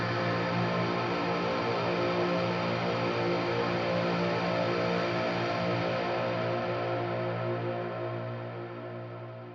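Distorted electric guitar run through a British Lead 800 amp simulation with EQ, a dense sustained chord that rings continuously and slowly fades toward the end.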